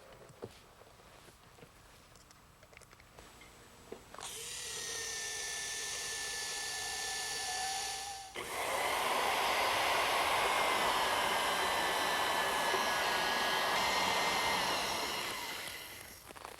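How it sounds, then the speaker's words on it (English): A right-angle half-inch power drill bores through a wooden sole plate in two long, loud bursts, a steady high whirring grind with a brief stop between them. "I'm drilling the sole plate for our waste and vent lines using this right-angle half-inch drill."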